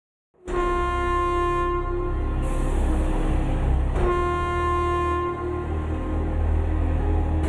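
A train's loud horn blares in sustained tonal blasts, restarting once midway, over the steady rumble of a passing train close by.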